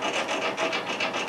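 Pet bird sharpening its beak, a quick series of dry rasping scrapes repeating in a steady rhythm, close and fairly quiet.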